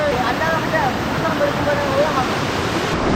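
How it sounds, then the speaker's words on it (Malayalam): A small waterfall at a village bathing spot pours in a steady, close rush of splashing water, while people talk over it. "ചെറിയൊരു വാട്ടർഫാൾസ് പോലെയാണ്"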